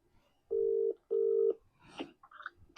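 Two steady electronic beeps of a phone keypad being dialed, followed by brief clicks and faint fragments of sound.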